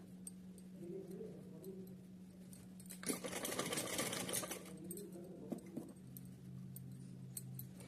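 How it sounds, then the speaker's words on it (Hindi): A sewing machine stitches a small cotton summer dress for a Laddu Gopal figure, with one short run of fast, steady whirring stitching between quieter handling sounds. It sounds close but soft. "तो चलिए इसको सिल लेते हैं।"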